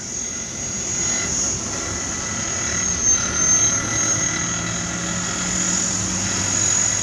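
A Copter X 480 RC helicopter flies on a test flight, its electric motor whining high and steady over the rotor whir, nearby and continuous throughout.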